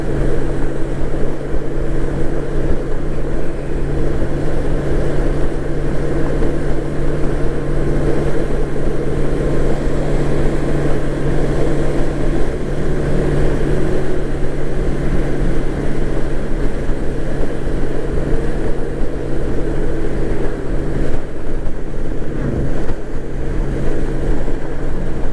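A Honda GL1800 Goldwing motorcycle rolls along with a steady, loud engine drone and road rumble that holds even throughout, with no talking.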